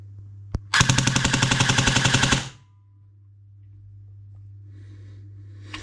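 An airsoft gun with a T238 brushless motor fires a single shot, then a rapid full-auto burst of about twenty evenly spaced cracks for under two seconds, loud and close, followed by quiet.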